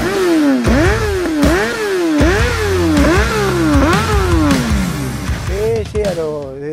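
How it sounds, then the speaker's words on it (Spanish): A motorcycle engine revs up and down hard in quick repeated surges, loud and close, each climb in pitch dropping away before the next, as gears shift through a run. "Una moto muy linda, muy fácil para manejarla y una velocidad extraordinaria."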